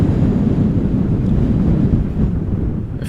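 Wind buffeting a microphone at Amsterdam Schiphol Airport during crosswind arrivals, a loud, continuous low rumble that barely lets up across the whole stretch, no voices.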